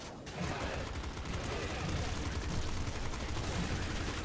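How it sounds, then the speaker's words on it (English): Dense, continuous gunfire and explosions from the video game Nuclear Throne, played in the Ultra Mod on hard mode, with a pop gun firing rapid bursts that stay loud and steady throughout after a brief quiet start. "I'm liking having the pop gun right now."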